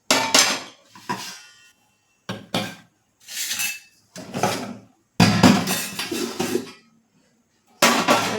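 A metal tava griddle is set on a gas stove and handled in a kitchen. Several separate clanks and scraping metallic knocks come in irregular bursts with silent gaps between them.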